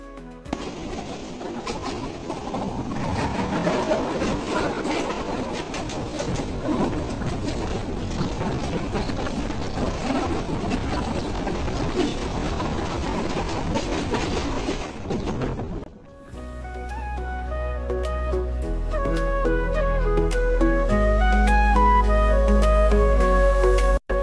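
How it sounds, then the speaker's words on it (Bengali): A moving train between Feni and Chittagong clatters along the rails, heard from the open carriage door as a loud, rushing roar mixed with wind for about sixteen seconds before music takes over. "ট্রেনের দরজায় এসে যখন দাঁড়িয়েছি তখন কি সুন্দর বাতাস আর ট্রেন চলার শব্দ"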